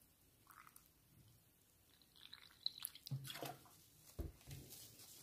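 Water poured into a flower pot of soil while planting calla lily tubers: a quiet trickle and splash with a few small drips and soft wet thuds, faint and close.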